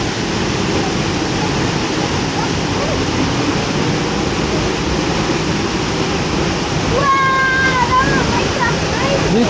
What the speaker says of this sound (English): They're behind the waterfall.